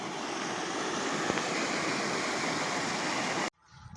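Rain floodwater from about twelve bighas of land pours in as a steady, loud rushing flow close by, then cuts off abruptly near the end, leaving quieter background.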